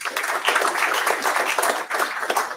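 Dense applause from a conference audience welcoming guests at a Polish-Ukrainian scientific conference, steady crackling clapping filling the whole stretch with a brief dip near the end.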